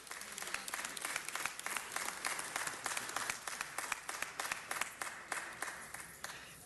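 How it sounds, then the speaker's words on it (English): Audience applause at a city council meeting honoring the Red Cross and its new executive director: dense, steady clapping from a crowd for several seconds, moderately close and continuous. "Let's give him and give the Red Cross a round of applause that they deserve."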